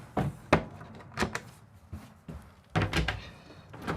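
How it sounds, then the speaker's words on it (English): Full extension drawers in the pantry of a Winnebago View 24J RV bump and thud shut, a series of close, uneven knocks with short quiet gaps between them. "So we've got all these really nice full extension drawers in here as well."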